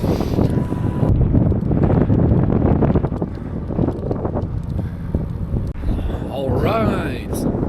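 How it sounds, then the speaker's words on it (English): Strong side wind buffets the microphone while cycling across open Kansas country, a heavy roaring rush of gusts that eases toward the end, where faint higher whistling tones come through. "I'm expecting a side wind today, which is not the best"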